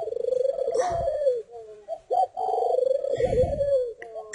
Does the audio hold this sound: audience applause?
no